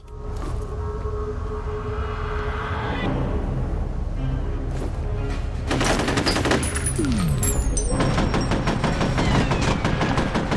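Sniper rifle fire in the 2005 shooter game F.E.A.R., heard as sharp, loud gunshot bursts over a constant game soundtrack hum, with a flurry of cracking reports in the second half.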